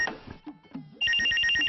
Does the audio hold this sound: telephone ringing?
yes